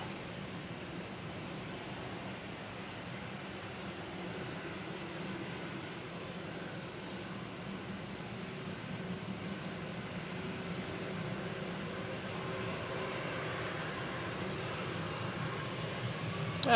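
A British Airways airliner on its takeoff roll at Manchester Airport on a windy day, heard as a steady distant broadband engine roar that holds level and swells slightly toward the end, with no talk over it.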